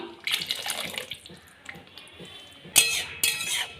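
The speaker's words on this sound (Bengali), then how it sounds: "এই সময় আমি অল্প একটু জল অ্যাড করলাম" Water poured from a tap or jug into simmering palak paneer gravy, a brief splashing pour with two sharper bursts near the end, close and moderately loud.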